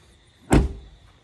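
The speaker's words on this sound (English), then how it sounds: "And then when you shut the door," A single car door thuds shut nearby, one short solid slam followed by quiet.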